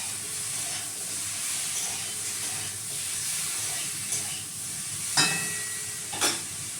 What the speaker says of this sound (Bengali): সবজিগুলো একটু ভাজা ভাজা হয়।